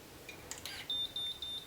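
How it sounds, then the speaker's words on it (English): A hair-sucking machine overloaded with too much hair gives a string of sharp, high electronic beeps, about five short regular pulses, close and clear after a few faint clicks. "it already started beeping to me and basically wouldn't suck the hair in"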